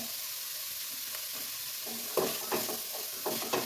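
Banana flower thoran with grated coconut, chili and salt is stirred in a pan; a soft low sizzle runs throughout, and a few scraping stirs come in the second half, fairly quiet and close with no talk.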